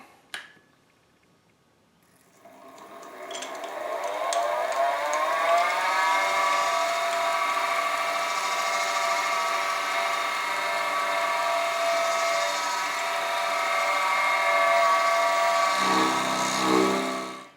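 A milling machine cuts a mortise into a custom hidden-tang knife handle: after a brief snap it spins up at about two seconds, then holds a steady, loud whirring drone with a rising whine before winding down near the end, with no talking.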